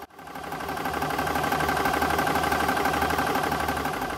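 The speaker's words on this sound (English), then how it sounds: "I'm filling using AC power on the Air Venturi Nomad 2 compressor." An Air Venturi Nomad 2 compressor running on AC power fills a 580cc air rifle tank from 150 to 250 bar, giving a steady, loud mechanical drone with a constant motor hum that holds evenly throughout.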